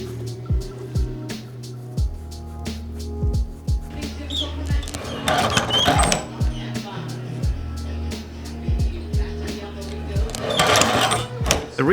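An industrial sewing machine stitches through a leather sneaker, hunting for the factory holes, running in short bursts and pauses with a steady mechanical hum under continuous talk.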